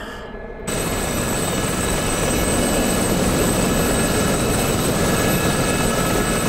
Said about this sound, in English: Cool looking helicopter though.